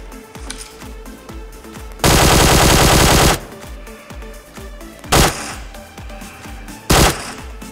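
Gunfire in PUBG Mobile: a loud, sustained automatic burst, then two shorter bursts after pauses, all very close and harsh over a thumping game music backdrop.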